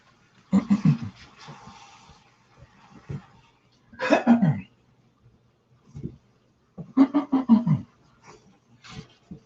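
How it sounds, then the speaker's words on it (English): Several bursts of harsh coughing in separate fits, close up, with quiet pauses between them. "I'm not coughing into the pot."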